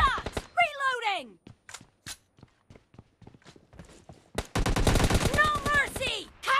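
Gunfire in the PUBG Mobile Lite TDM mode, rapid bursts of automatic shots crackling close and loud, with scattered single shots and game sound effects in between.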